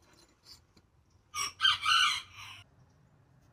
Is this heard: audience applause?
no